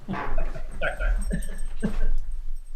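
A dog being let outside whimpers and yips close by in a steady run of short whiny sounds, with some background noise throughout.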